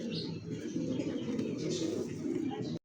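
Caged fancy pigeons cooing steadily in a dense low murmur, several birds close together throughout, with a faint human voice in the background.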